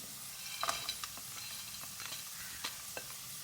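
Carrots and raisins fry in a pan with a soft, steady sizzle and occasional light clicks of a stirring spoon, fairly quiet and close.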